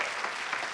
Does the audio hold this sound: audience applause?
yes